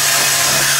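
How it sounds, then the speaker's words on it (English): A power drill whines loudly and continuously at close range while drilling a hole in metal, a brief harsh burst of grinding noise. "I'm gonna drill the smaller hole first"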